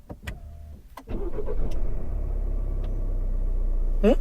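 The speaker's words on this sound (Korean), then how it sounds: "이게 디젤 엔진은 맞는데 원래 디젤 엔진들이 왜 둔탁한 점이 있잖아요. 이거 안 그래. 음이 살짝 더 고주파로 갔어." A Chevrolet Cruze 1.6 diesel, 2015 or 2016 model year, cranks briefly and fires up, then settles into a steady, fairly smooth idle heard close by, with a few faint clicks and a short squeak at the end.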